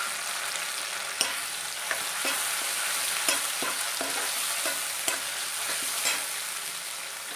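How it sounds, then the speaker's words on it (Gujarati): Tomato frying in a hot pan gives a soft continuous sizzle with sharp, scattered spoon taps and stirring scrapes, close and steady, with no voices. "હવે નાખીશું ટામેટું"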